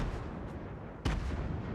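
A blast goes off in the LEGO Fortnite video game, a single sharp boom punching through a dense rumbling wash of continuous explosion noise.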